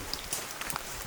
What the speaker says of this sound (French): Toujours un peu de pluie, mais franchement, ça va.